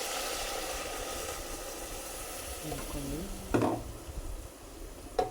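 Masala cooking in hot oil in a pan, a steady soft sizzle throughout, with a couple of brief utensil clinks near the end.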